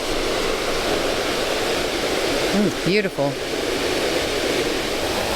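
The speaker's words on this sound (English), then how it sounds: "Sound is getting stronger. We must be getting closer. I can see it actually. All right. Brandywine Waterfalls." Brandywine Falls waterfall roars as a loud, constant broadband rush in an outdoor park setting, with a person speaking briefly over it midway.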